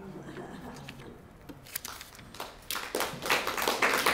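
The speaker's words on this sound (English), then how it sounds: "You don't have to clap between every poem" An audience at a library poetry reading breaks into clapping between poems, starting scattered and quiet, then swelling into fuller applause toward the end.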